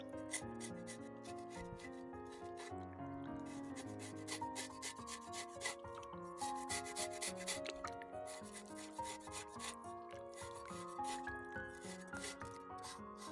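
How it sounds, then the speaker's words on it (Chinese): Knife scraping the surface of seared pork skin, a close, continuous rough rasping with repeated short strokes, steady and moderately quiet with no talk. "再用刀给它刮去上面的脏东西"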